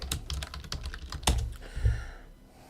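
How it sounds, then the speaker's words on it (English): Fast, close typing on a computer keyboard, a burst of crisp key clicks with a couple of heavier thumps before trailing off, no talking. "I'm just going to type in Rosei Suzuki contract details"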